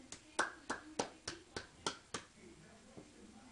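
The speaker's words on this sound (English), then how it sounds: "Clap your hands" Small child clapping hands at the top of the stairs, about eight quiet, separate claps in an uneven rhythm, close by, with a little talk in the background.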